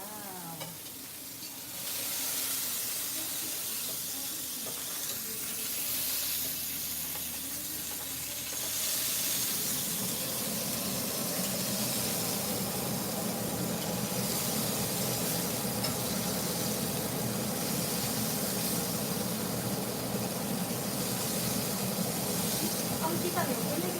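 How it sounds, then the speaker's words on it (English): A cheeseburger beef patty sizzles in a frying pan, a loud continuous hiss and crackle that swells after a few seconds of quieter cooking noise and then keeps going steadily to the end. "So here's what you you put it in the pan. You hear the sizzle."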